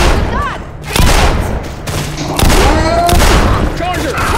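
Repeated gunfire bursts and heavy booms from a zombie shooter video game, loud and close, with players' voices talking over the shooting.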